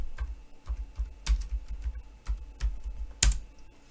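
Fingers tap keys on a computer keyboard in a quick, uneven run of close, crisp clicks with one louder keystroke near the end, with no talk.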